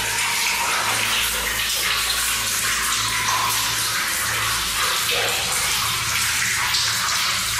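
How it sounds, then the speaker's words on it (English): Steady, loud rushing and splashing of water dripping in a mine tunnel fills the space without pause, a dense continuous spatter echoing in the enclosed tunnel. "There's water dripping, which drowns out the sound somewhat"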